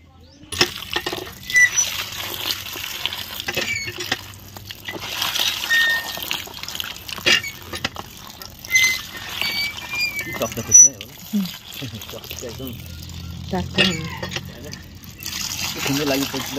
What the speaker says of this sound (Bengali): ধুয়ে নাও ভালো করে জলে।